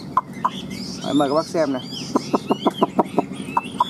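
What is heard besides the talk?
hwamei songbird calling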